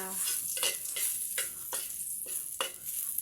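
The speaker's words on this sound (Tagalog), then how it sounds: "Mag-gisa na tayo ng bawang guys." Garlic sizzles steadily while frying in a pan, with a regular series of stirring scrapes about every half second to second. The sound is close and moderately loud, and no one speaks.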